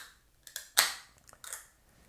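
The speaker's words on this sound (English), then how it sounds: "So let's get this bad boy cracked gently." A milk stout flavored with coconut and milk chocolate is gently cracked open, giving a sharp snap and then a short fizzing hiss, with a few soft clicks and a second brief hiss close by.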